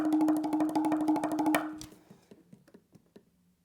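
A fast, even drum roll of quick strokes rings out, then breaks into slower, scattered taps that fade away.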